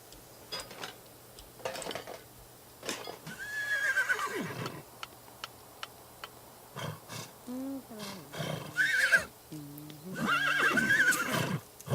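Horses neighing and whinnying in The Sims 3, several distinct whinnies spread across the span with occasional clicks and clattering between them.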